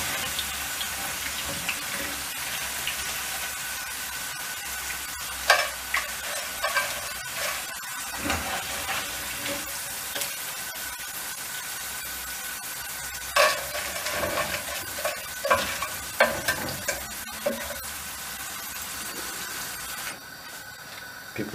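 Potatoes frying in a pan of oil, a constant soft sizzle with intermittent crackles and light clinks of stirring, moderately close and even, ending in a brief quieter moment; no talking.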